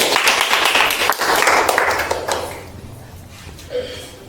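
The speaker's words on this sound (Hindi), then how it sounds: "ताली बजा दो उसके लिए" A small group claps for a child at an acting workshop, a dense, lively burst of hand claps for about two seconds before it thins out and fades, with faint voices underneath.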